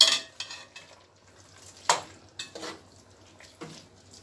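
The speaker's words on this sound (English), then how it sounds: "chopped scallion, some sweet peppers, and I'll just stir that into the meat." Chopped scallion and sweet peppers being stirred into Jamaican brown stewed pork: a handful of separate scraping strokes and soft wet swishes spaced about half a second apart, close and fairly quiet, with near silence in between and no speech.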